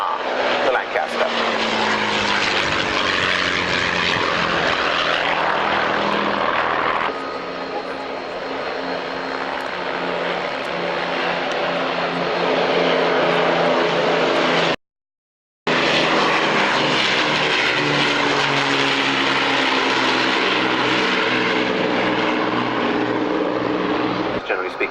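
An Avro Lancaster and a Spitfire fly over an airshow, a loud, continuous drone of piston propeller engines that swells and shifts in pitch as they pass, with a commentator's voice over the top.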